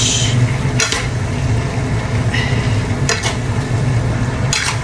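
Pancit noodles are being stirred in a hot pan, giving a dense, loud frying sizzle throughout, broken by a few sharp scrapes and clinks of the utensil against the pan, close up, with no talking.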